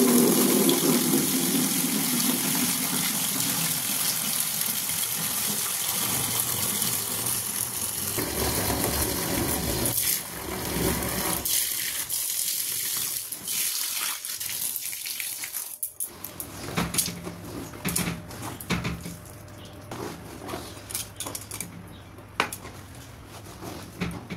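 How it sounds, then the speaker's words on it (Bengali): Water runs steadily from a tap while clothes soak, a continuous gushing splash close by that later breaks into uneven splashing and handling noises. "জামা কাপড়গুলো তো সব ভিজিয়ে দিলাম রোদ্দুর দেখে"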